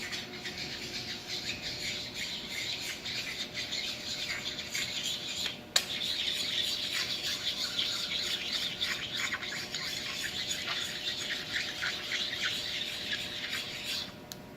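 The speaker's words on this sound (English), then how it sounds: "you don't only stone the table, you're going to stone the vise as well" A sharpening stone is rubbed back and forth across the steel surface of a machine vise, a thin continuous squeaky scraping with rhythmic rasping strokes and one sharp knock partway through, fairly quiet and close, with no talk.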